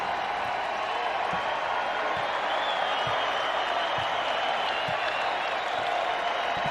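A college basketball arena crowd at Utah State vs Boise State cheers and claps in a steady, dense roar that never lets up.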